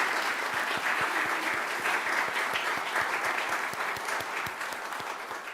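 Audience at the 2022 SJC Pro Bono Awards ceremony applauds steadily, a dense, even wash of many hands clapping throughout, fading slightly toward the end.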